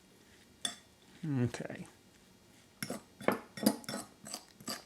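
Shredded cheese and egg are mixed in a bowl, with scattered clinks and scraping stirs of a utensil against the bowl, some louder strokes near the end, and a brief spoken word.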